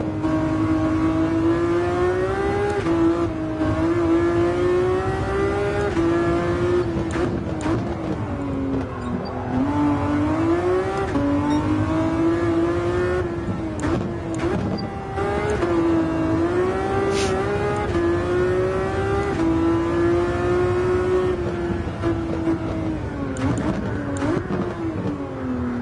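A Super Formula race car in Gran Turismo 7 holds a loud, continuous high-pitched engine whine through a race, the pitch dipping and climbing with gear changes and corners, with no talking.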